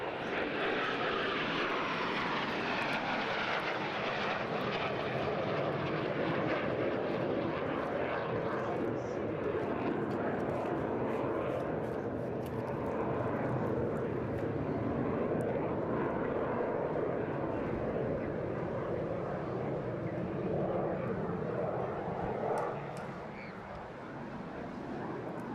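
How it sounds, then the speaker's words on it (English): A BAC Strikemaster jet flying at the Eastbourne International Airshow, a sustained, loud jet roar that swells and holds as the aircraft passes, with faint voices under the engine noise. "this is BAC Strikemaster out of the North Wales Military Aviation Services"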